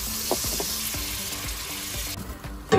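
Onions sizzle steadily in hot oil in a pan for a chicken rice dish, with a few soft stirring scrapes and clinks over continuous frying hiss, close and fairly loud, ending in a brief louder clatter.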